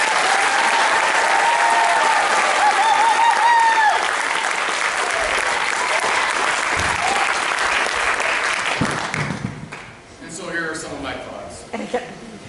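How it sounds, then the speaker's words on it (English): An audience at a school arts evening breaks into sustained applause, a dense steady wash of clapping that fades out near the end as a voice begins speaking. "Ms. Beachgrass and Mr. Sidecheck deserve a huge round of applause"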